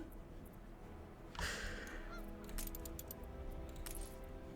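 Geese honk at a goose farm in the city-building game Anno 1800, a sudden loud honk followed by several shorter calls over a steady ambient game bed, with no talking.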